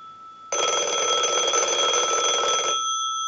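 A Western Electric 500 rotary telephone's bell rings during repair testing, one steady loud electromechanical ring lasting about two seconds with a sharp start and clean stop, alone and close.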